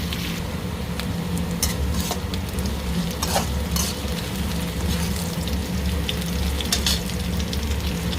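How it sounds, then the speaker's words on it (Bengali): Poi saag greens frying with black cumin seeds and green chillies in a hot pan, giving a loud, continuous sizzle with repeated scraping and clinking from a utensil stirring throughout, and no talking. "এগুলো ভালো করে ভেজে নেবো।"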